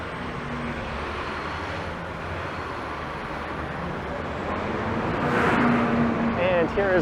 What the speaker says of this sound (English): this bus in front of me is not a shuttle bus